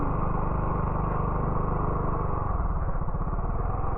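Honda Fazzio scooter engine running under throttle, a close, steady putter that loosens into a slower chugging rhythm toward the end, alone with no talk.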